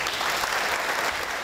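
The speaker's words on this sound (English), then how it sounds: "Please join me in giving this humble organization a big round of applause." An awards ceremony audience applauds an organization in a steady, dense wash of clapping, even in level from start to finish, with no talk over it.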